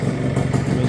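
A 1975 Kawasaki F7 175 two-stroke vintage enduro motorcycle idles close by, a steady, loud, chugging burble for under a second.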